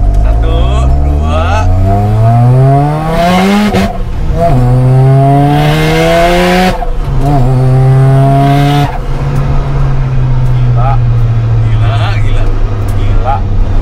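Mazda RX7 rotary engine revving hard and accelerating, loud and close, with rising pitch sweeps through repeated gear changes, then settling into a steady high drone; people talk over it.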